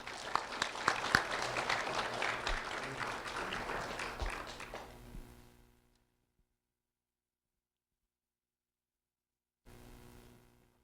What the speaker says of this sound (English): a round of applause for Kaylee Horn